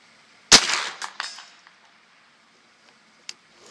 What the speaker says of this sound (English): The weapon is hot. Safety off. Commence fire.